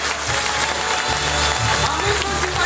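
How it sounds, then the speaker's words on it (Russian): A festival audience applauding the winner of a documentary film festival, steady dense clapping filling the hall with a voice faintly under it. "Ваши искренние бурные аплодисменты победителю!"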